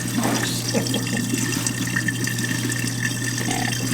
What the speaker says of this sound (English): I'm going to go ahead and turn on the water.